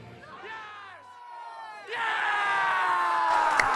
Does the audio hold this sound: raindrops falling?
no